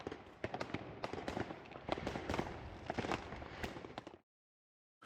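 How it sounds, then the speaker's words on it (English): Fireworks set off by neighbours crackle and pop in a dense, rapid series of sharp bangs from a distance, continuing for about four seconds before stopping abruptly, with one last pop after a short silence. "They even launched some fireworks when I was done."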